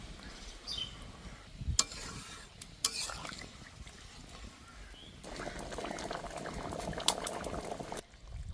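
Oil-free chicken curry bubbles and simmers in a pot after water is poured in, a close, soft, continuous burbling with stirring and a few sharp clinks, and no talking.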